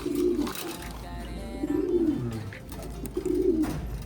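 Pigeons in a coop give repeated low throaty coos in rolling phrases, close by, with a steady background murmur and no talking.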